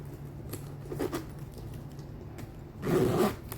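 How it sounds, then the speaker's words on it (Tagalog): A zipper on a bag pocket is pulled open and shut, giving several short close-up rasps followed by one longer, louder zip near the end, with faint handling noise between. "Dalawa yung zipper."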